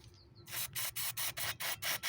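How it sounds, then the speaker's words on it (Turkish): Brake cleaner spray hisses onto a car throttle body to clear leftover residue, coming in six or seven short, close, even bursts with brief pauses between them. "bir balata sprey yardımıyla kalan tortuyu"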